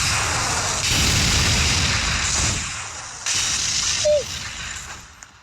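In the video game Teardown, a bridge is blown apart in heavy, rumbling explosions that roll on with dense crackling debris, then a second loud blast that fades into scattered crumbling.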